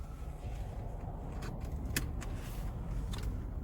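A Jaguar S-Type 3.0 V6 with 240 horsepower is heard from inside while driving, a steady low engine and road rumble with a few faint interior clicks and rattles.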